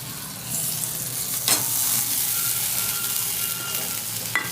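Ginger sizzles and fries steadily in hot oil in a pan while cooking matar dal, a continuous close crackle with a couple of sharper spits and stirring scrapes.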